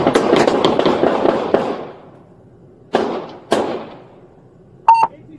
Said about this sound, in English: 1817, shots fired. Shots fired.